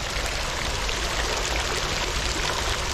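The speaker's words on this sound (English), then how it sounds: "Just look at these little streams." Small streams of water splashing into a fountain basin, a steady, dense, close rush of pouring and trickling water with no gaps.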